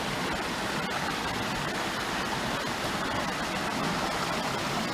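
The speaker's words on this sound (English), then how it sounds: "That's a pretty cool waterfall." Creek waterfall pouring over a log jam of rotten trees, a steady, dense rushing roar of moderate loudness that holds without a break throughout.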